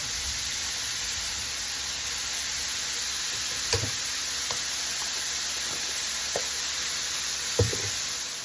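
Thin steak seasoned with salt and pepper sizzles steadily in a pan while a spatula shifts it around, giving a constant close hiss broken by a few sharp scraping clicks.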